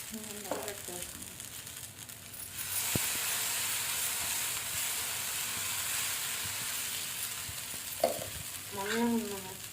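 Food fries in a pan in a home kitchen while being stirred. A loud, steady sizzling hiss starts a few seconds in and continues, with voices talking briefly at the start and near the end.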